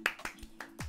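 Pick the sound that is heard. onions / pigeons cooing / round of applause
round of applause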